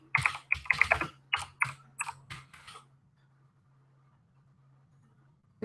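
Brisk clicks of typing on a computer keyboard come in a quick, uneven run of keystrokes lasting about three seconds, then stop, leaving near silence.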